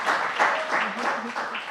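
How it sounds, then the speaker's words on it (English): An audience at a panel event on New York City small businesses gives a warm welcome to the first group of panelists, with steady clapping under a speaking voice throughout. "warm round of applause for our first group of panelists"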